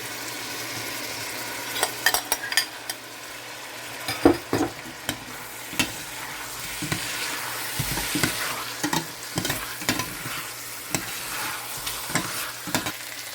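Glutinous and jasmine rice stirred with chicken in a pot for arroz caldo, giving scraping, clacking spoon strokes over a steady sizzle, with sharp irregular knocks throughout and no talking.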